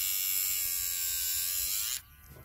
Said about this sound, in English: So I attempted to grind my beagle's nails.